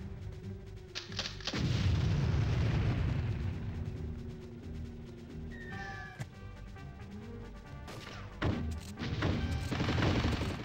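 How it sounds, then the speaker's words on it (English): Grenade launcher fire in the Army Men: Sarge's Heroes 2 video game, with heavy booming blasts and rumbling bursts that repeat through the stretch over dense game noise. "Grenade launch."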